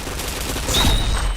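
Rapid gunfire in an online video game streamed live, a dense burst of shots swelling near the end into a louder fusillade, with no talking.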